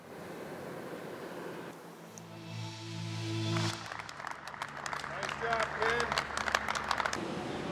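Crowd applausing as the first Pfizer vaccine shipment sets off for transport, a dense burst of clapping rising in the second half after a voice talks over a background hum.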